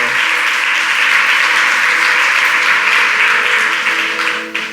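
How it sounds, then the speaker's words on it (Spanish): A church congregation applauds loudly and steadily, a dense wash of clapping that holds strong throughout before easing slightly at the end. "Dale un aplauso a Dios en esta maravillosa tarde."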